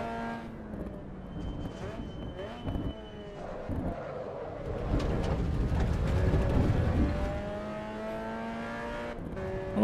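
Game car engine and chassis rattles in the Assetto Corsa EVO racing sim, a steady revving drone with shifting engine tones and mechanical clatter over rough track sections, with a voice talking over it in places.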